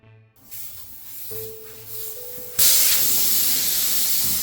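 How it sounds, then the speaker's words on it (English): Fat bike inner tube with its valve core missing, air rushing out in a loud, steady hiss that swells suddenly partway through and stays strong to the end, with a faint whistling tone before the burst. "I forgot to put the valve core in, and the whole thing just deflates"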